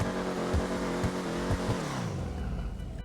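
Classique Broadway muscle car engine in GTA Online, revving loudly in repeated pulls with rising pitch before dropping away, heard alone and close.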